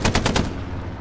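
Sherman tank machine gun in a video game, firing a quick burst of four or five loud, close rounds that rattle, then cut off into a fading rumble.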